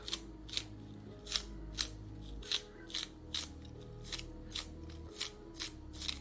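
About a dozen crisp, evenly spaced knife chops cutting the top off a scallion on a board, close but quiet, with no talking.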